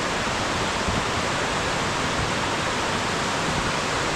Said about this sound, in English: I love the sound of running water anyway.